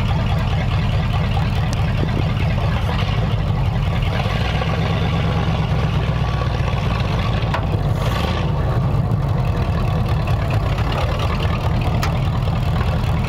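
Pre-war jalopy shop truck engine with thick-wall torque tube headers idling, a deep, steady low rumble with an even pulse, close and continuous for the whole stretch.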